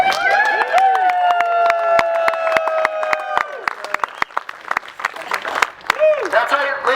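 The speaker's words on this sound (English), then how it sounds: "Ladies and gentlemen, can we please have a large round of applause for one of our esteemed members of the Arctic 30" A crowd at a climate conference award ceremony applauds, with sharp scattered claps and cheering under ongoing voices, the clapping thinning out toward the end.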